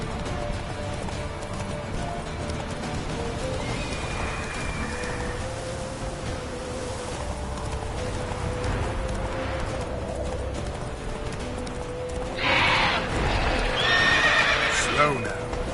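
A horse gallops and neighs in the Witcher 3 video game, with steady hoofbeats throughout and loud whinnies near the end, under spoken dialogue.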